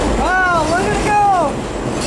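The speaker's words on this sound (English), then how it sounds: "These trains may be built in the 60s, but they still haul ass!" A 1960s-built train running through a tunnel, giving a steady, loud rumble with a brief wavering squeal of the wheels, and a voice speaking over the noise.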